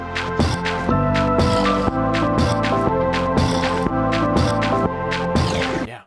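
A steady looping beat built from Minecraft game sounds uses clicky snare-like hits and percussion over sustained tonal notes, playing continuously and fairly loud.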